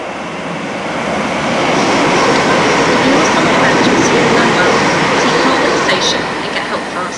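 A British Rail Class 313 electric train in Network SouthEast livery runs with a steady broadband rumble and rail roar that swells after the first second and holds loud to the end, with faint high squeals near the close.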